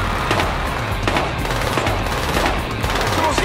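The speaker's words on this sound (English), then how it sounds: "tell that to the asshole shooting up the place" Gunfire in the video game Battlefield Hardline: dense, continuous automatic shooting with rapid repeated reports over a loud, busy background.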